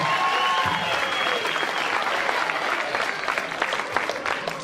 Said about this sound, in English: Give a round of applause for this guy.